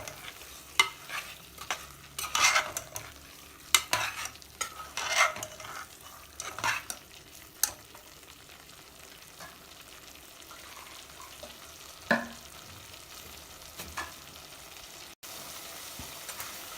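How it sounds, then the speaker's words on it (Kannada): Chicken masala paste fries in a pan, with a low continuous sizzle under irregular bursts of stirring and spoon-on-pan scraping, close and moderately quiet, without talk. "ಈಗ ಇದು ಚೆನ್ನಾಗಿ ಫ್ರೈ ಆಗಬೇಕು."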